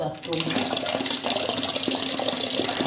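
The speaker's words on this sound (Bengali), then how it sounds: "বালতিতে দিয়ে কলটা ছেড়ে দিচ্ছি অক্সিজেনের জন্য" Tap water gushes steadily into a bucket, a loud continuous splashing and hiss that runs the whole time, with a person talking over it.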